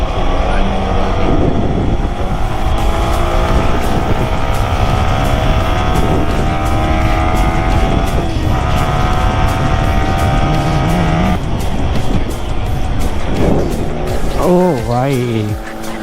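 Superbikes on a Sunday group ride, including ZX-10R, S1000RR, Z900, Hayabusa and Ducati machines, rev hard and roar past at speed, loud sustained engine whine with rising and falling pitch as they pass, while someone talks over it.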